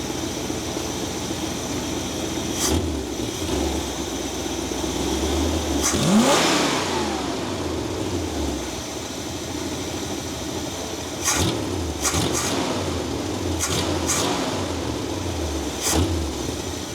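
1964½ Mustang engine, freshly fitted with a swapped carburetor, idles steadily and is revved several times, with one longer rise and fall and later sharp blips, loud and close.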